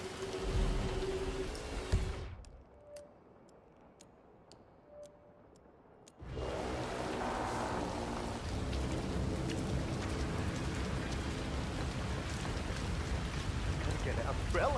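Rain falls in the Chongqing level of the video game Hitman 3 as a steady broadband wash. It cuts out for about four seconds, leaving faint ticking, then returns louder and continues.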